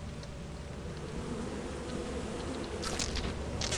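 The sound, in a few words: bees buzzing in a video game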